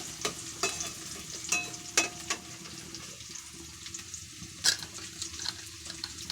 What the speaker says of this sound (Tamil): வெங்காயம் வதங்கிக்கிட்டு இருக்கு